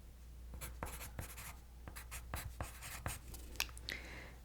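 Pen scratching across paper in short strokes and taps, close and quiet, with no talking over it.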